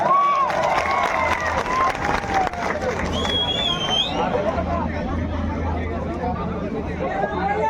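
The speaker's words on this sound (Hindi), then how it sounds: "दीपक महतो जी का इस मंच में हार्दिक हार्दिक अभिनंदन, जोरदार ताली हो जाए।" A crowd at an outdoor political rally on a maidan applauds and cheers for a leader, busy clapping mixed with chatter, shouts and whistles close by.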